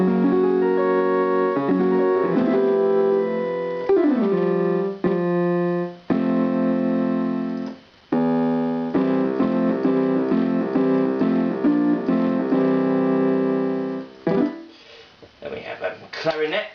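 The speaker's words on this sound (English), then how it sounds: "And piano." A Yamaha PS-30 Portasound keyboard on its piano voice plays a close, loud run of struck notes and chords that decay between changes, followed by a short stretch of talk and handling noise near the end.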